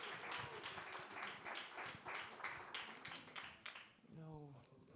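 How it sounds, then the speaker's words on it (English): Workshop audience clapping for a panel of speakers at a digital marketing event, dense applause that fades out toward the end as a voice begins speaking. "Big round of applause."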